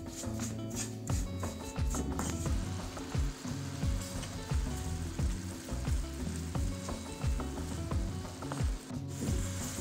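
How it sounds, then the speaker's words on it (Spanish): Carrot cooking down with sugar and passion fruit crackles in a pan, with a dense, continuous sizzle and repeated rhythmic scrapes of a stirring utensil, close and fairly loud, with no voices. "Para que se cocine esta zanahoria con el azúcar y la maracuyá."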